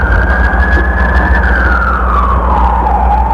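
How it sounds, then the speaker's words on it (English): An emergency vehicle siren wails steadily and loud over a constant low engine rumble, its pitch holding then sliding down, on a downtown street covered in smoke on September 11, 2001. "That siren is our world."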